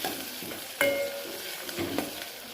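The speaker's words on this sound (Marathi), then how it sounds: "हे सगळं एकत्र परतून घ्यायचं हे छान तळले की" Steady frying sizzle in a pan with a few sharp scrapes and clinks of a spatula stirring a tempering with coriander leaves.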